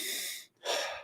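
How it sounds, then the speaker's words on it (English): An exaggerated diaphragmatic belly breath used in meditation practice, close and fairly soft: a long airy inhale, a brief pause, then a long breathy exhale, with no talking. "This is belly breathing."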